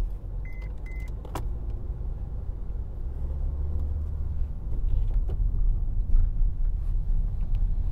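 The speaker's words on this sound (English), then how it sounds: "start the car again, clutch down, and pull forward to the point where the turn is here" A manual car pulls forward during a driving lesson, its engine a steady low rumble that grows slightly louder as it moves off, with a few faint clicks and knocks from inside the cabin.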